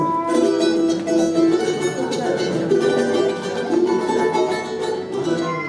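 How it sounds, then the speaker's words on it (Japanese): Bright, rapidly strummed plucked strings of a ten-string charango, a small Andean guitar, dense and continuous, played close and steady with no talking. "あともう一つ特徴的な楽器がチャランゴっていう楽器になります。"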